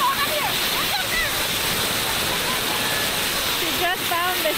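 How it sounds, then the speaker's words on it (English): Tham Phra waterfall in the Thai countryside pours in a loud, constant rushing roar, with people shouting and talking over the water. "All it is just a waterfall right here!"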